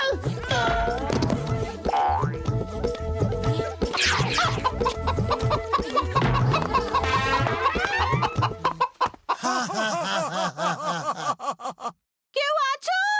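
Cartoon chickens cluck in a busy, animated scene, with voiced squawks and bouncy comic sound effects piled over character voices, ending in sharp, choppy bursts.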